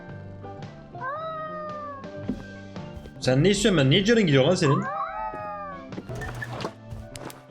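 A cat meows repeatedly in a grimy warehouse, its drawn-out, whiny cries close and clear, with one longer, louder wail in the middle, while someone talks over and between the meows.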